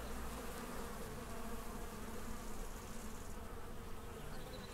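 Bees buzz in a dense, continuous drone that fills the air evenly from start to finish, with no voices.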